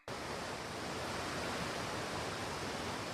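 Heavy cartoon rain and a swiftly rising river make a steady, dense rushing roar that starts abruptly and holds at full strength throughout.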